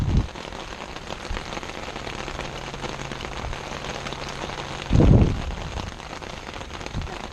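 Rain falls steadily outdoors during a side mirror install on a 2008 Infiniti G35 four-door, a continuous soft patter with a couple of brief louder thumps.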